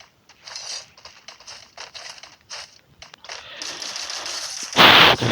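Rapid bursts of automatic gunfire ring out in a Free Fire battle-royale match, scattered volleys of clattering shots with short gaps, ending in a loud, dense burst up close.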